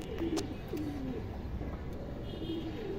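Indian highflyer kaldom pigeons coo close by, several soft low rolling coos over a constant background hiss.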